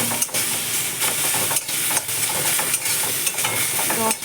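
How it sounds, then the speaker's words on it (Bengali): Taro leaf paste with turmeric fries in a pan, a loud continuous sizzle and hiss broken by repeated scraping stirs at a steady pace, close up with no talking. "এটা কিছুক্ষণ ফ্রাই করবো, ভাজা ভাজা আরেকটু ভাজবো"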